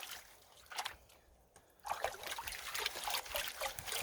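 River water trickling and splashing softly as rocks are washed for gold panning on the Trinity River in California, faint and close with a few small splatters and a brief quiet gap.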